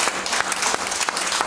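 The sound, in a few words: congregation hand clapping in church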